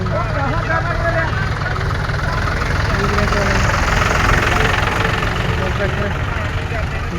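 Tractor engines in a convoy towing trolleys run with a steady, knocking mid-pitched chug close by, their continuous drone mixed with people talking throughout.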